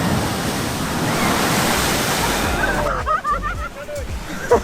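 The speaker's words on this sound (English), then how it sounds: "I got blasted by the waves bad." Ocean waves crash and surge against a rocky coast, a loud, continuous roar of surf and spray close to the microphone with wind buffeting; the wash breaks up toward the end.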